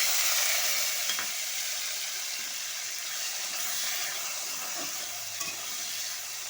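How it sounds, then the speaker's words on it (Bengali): Potatoes frying in a wok with nigella seeds and green chilli, a steady hissing sizzle with occasional stirring knocks, close and even throughout. "আলুটা একটু ভাজা ভাজা হবে।"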